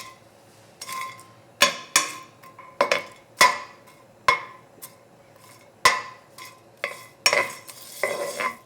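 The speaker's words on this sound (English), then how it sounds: "Just I'm going to stir this until it smells good." Dried anchovies stirred in a hot, dry pot: a steady run of sharp scraping clinks from the utensil against the metal, repeating roughly every half second over a faint sizzle.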